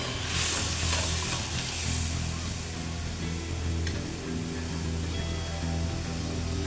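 Water with ground garam masala poured into a simmering paneer curry pan, giving a steady hissing sizzle with bubbling, constant and fairly close.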